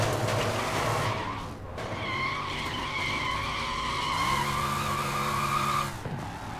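A Fastback car driven in the video game Sleeping Dogs skids with squealing tires and a revving engine whose pitch rises and shifts, loud and close, with no talk over it.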